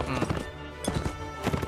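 A horse's hoofbeats clop in Mount & Blade: Warband, coming in a few quick rhythmic clusters at moderate volume, with faint voice-like sounds in the mix.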